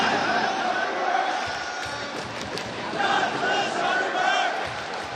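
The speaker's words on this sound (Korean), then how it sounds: "관중들이 갑자기 일본인에 대한 적개심을 담은 구호를 외칩니다." Spectators at a Chinese professional football match chant hostile anti-Japanese slogans in unison, a loud, dense stadium roar of massed voices rising and falling over several seconds.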